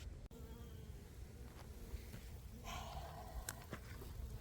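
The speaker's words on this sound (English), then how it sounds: "there's still a good number of bees left in this hive" Honey bees buzz steadily around a cold-weather hive after a swarm, a dense insect drone that stays close and continuous with brief louder passes of individual bees.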